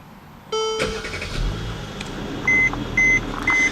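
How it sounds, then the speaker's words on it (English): A 2016 Mercedes-Benz E400 Coupe's twin-turbo V6 engine cranks and starts, then idles with a low rumble while a few short electronic beeps chime at regular intervals. "Now you can see the startup of the engine is very nice."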